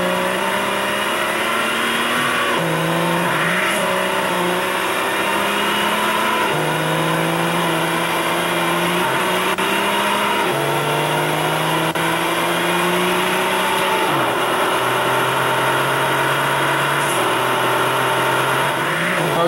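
Car engine in GTA San Andreas during a driving school run, a loud continuous drone rising in pitch through repeated gear shifts, each climb dropping back and building again.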